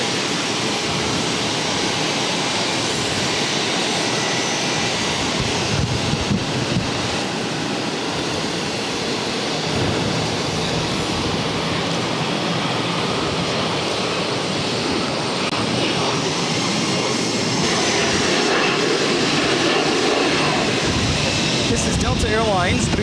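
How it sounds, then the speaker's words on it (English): A Delta Airbus A321 jet rolls down runway 22 right at Boston Logan, a loud sustained engine roar filling the whole stretch and building toward the end, while a voice talks over it. "Also a Delta A321 also rolling down"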